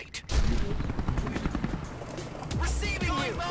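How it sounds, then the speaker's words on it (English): A helicopter's rotor thrum with rapid gunfire-like bursts in a real-time strategy game, Battlefall: State of Conflict, as it arrives to extract supplies, a steady loud drone rising again near the end. "the helicopter came in, already extracted some of the supplies"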